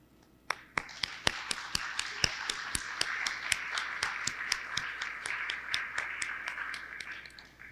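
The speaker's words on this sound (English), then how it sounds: "I just want to give a round of applause for you all" Steady, evenly spaced hand claps at a New Jersey Department of Community Affairs shared-services road show, sounding like a small group clapping in a room for visiting mayors, with no talking over it.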